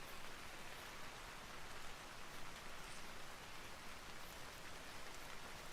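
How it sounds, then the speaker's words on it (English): Steady rain from the game Vintage Story, a dense even hiss of drops falling on surfaces throughout, with no speech over it. "I really like the rain sounds in this game."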